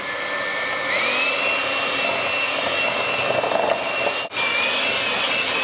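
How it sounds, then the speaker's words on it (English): Electric whisk beating whoopie pie batter until light and fluffy, a steady loud whirring drone with a brief dip near the end, no voices. "So you'll whisk this until they become light and fluffy."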